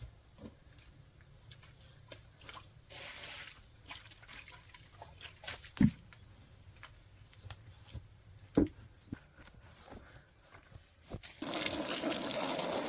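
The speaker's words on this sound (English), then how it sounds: "get you some water." Crickets chirp steadily in the background with scattered small knocks and clicks in a forest pig pen, then water starts pouring in a rushing stream near the end as it is poured for heritage pigs.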